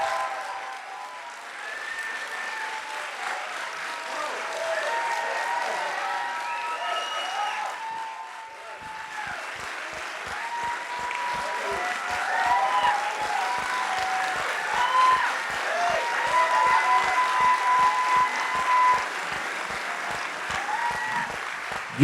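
A large festival audience at Cannes applauding Javier Bardem, sustained clapping from a big crowd that swells into a fuller, rhythmic ovation and continues loudly without a break.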